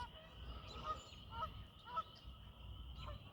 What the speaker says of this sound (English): they're calling back and forth to each other